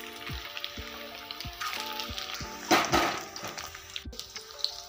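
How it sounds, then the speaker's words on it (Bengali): Dough balls dropped one at a time into hot oil in a wok, giving a steady close frying sizzle with a few soft plops and a louder bubbling burst partway through. "কড়াইয়ে তেলটা আমার গরম হয়ে গেছে, এবার আমি মতিগুলোকে এক এক করে দিয়ে দিলাম"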